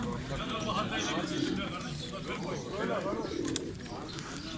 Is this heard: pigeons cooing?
yes